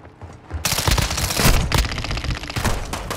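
Automatic gunfire from a gold Damascus loadout rattles during a Ground War match in Call of Duty: Modern Warfare II, with loud, close, sustained rapid bursts and a few short pauses.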